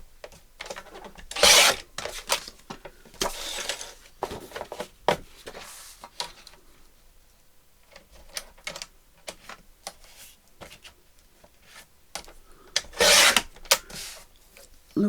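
Scattered scrapes and crisp cuts as paper cards are trimmed for a vintage sewing journal, with rubbing and tapping sounds at close range and a few louder bursts, no speech.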